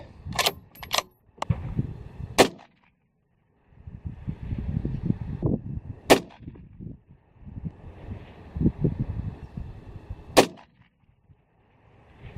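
A Lithgow Arms LA102 .223 rifle fires four sharp, loud cracks spread several seconds apart outdoors, with rustling and handling noise in between and no speech.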